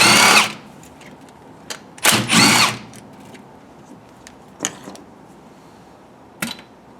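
A power tool spins off two 12mm bolts from the AC lines while a vintage air conditioning kit goes onto a serpentine belt setup. Several short loud whirring bursts come close by, with quiet gaps between them and no talking.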